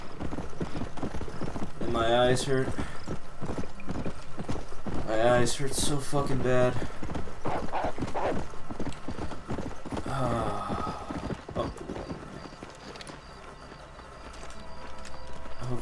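Horse hooves clip-clop through the Red Dead Redemption video game as a rider travels, layered with game music and sound effects while someone talks over much of it.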